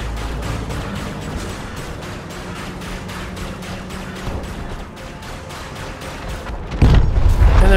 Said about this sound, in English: I'm going to put most of my power into weapons, so I can keep up a sustained fire on this poor little Sidewinder.